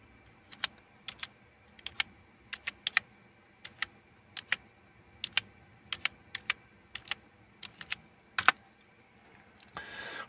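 A disk encryption password is typed on a computer keyboard: crisp individual keystrokes in an irregular rhythm, close and clear, ending with a short rustle.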